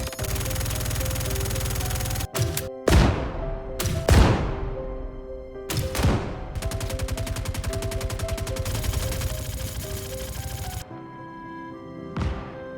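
Ship weapons in Star Citizen firing at an ARGO ATLS mech, with loud repeated booming blasts and long stretches of rapid sustained gunfire, punctuated by short gaps and ringing tones.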